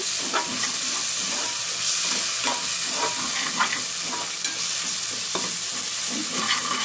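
A prawn and ridge gourd curry sizzles and fries in a pan while it is stirred, giving a constant hiss broken by repeated scraping strokes, close and alone.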